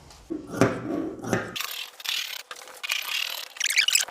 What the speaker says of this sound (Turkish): Bunu bu şekliyle olduğu gibi kesiyorum.